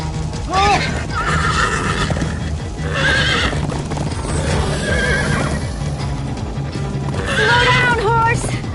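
A horse in the Minecraft video game neighs in several shrill whinnies over a steady clip-clop of galloping hooves, with voices speaking throughout.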